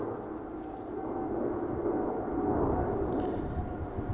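A TUI Boeing 787 Dreamliner's engines spool up for takeoff at the Polderbaan threshold at Amsterdam Schiphol: a steady, distant, broadband roar that swells slightly, with no talking.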